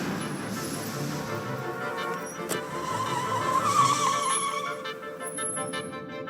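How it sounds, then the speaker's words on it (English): Taxi cab driving along at about 20 miles per hour, a steady engine and road rumble with tire noise, slightly swelling in the middle and continuing unbroken throughout. "And to go faster, all the driver needs to do is step on the gas, and the cab speed changes."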